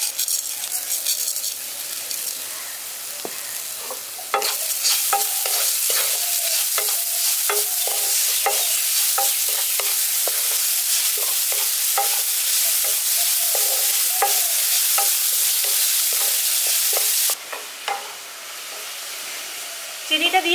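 Lightly fried carrots being stirred in a pan with sugar, a constant sizzle and hiss with a quick scrape of the utensil, close and steady until a brief pause near the end.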